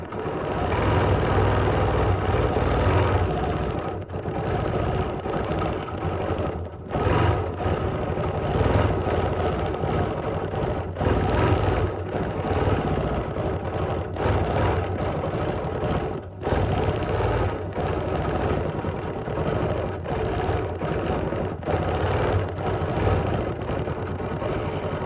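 An embroidery sewing machine stitches a vine design, its steady mechanical whir running continuously and close with a few brief pauses in the rhythm.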